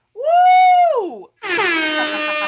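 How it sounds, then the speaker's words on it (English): Two loud air horn blasts, the first about a second long, then a brief gap before a second, brassier blast. "I needed the air horn."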